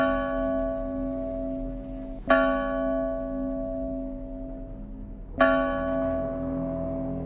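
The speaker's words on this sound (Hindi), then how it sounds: "घंटी बजती सुनाई दे रही है ना?" Church bell in an old church, two clear struck tolls several seconds apart, each ringing out with long sustained overtones over a faint background hum.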